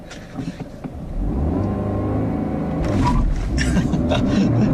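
A 2015 Cadillac ATS coupe with a 2-liter turbo engine and six-speed gearbox starts quietly, then roars loudly as it accelerates hard, with the engine note rising and holding.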